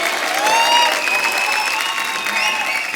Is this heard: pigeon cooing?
no